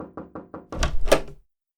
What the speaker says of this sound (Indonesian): Mengapa kau mengetuk begitu keras?